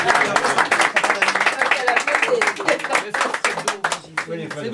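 Audience applauding for Annie, a dense burst of clapping from a small crowd that continues steadily with voices talking over it.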